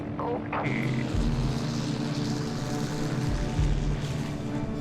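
A DC-3 propeller airliner's piston engines drone loudly and steadily, a close, continuous roar with a deep rumbling low end.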